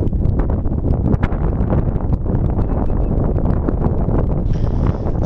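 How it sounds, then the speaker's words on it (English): Loud, gusty wind batters the microphone with a heavy rumbling roar, while faint rustling and clattering flicker through it. "here is quite windy"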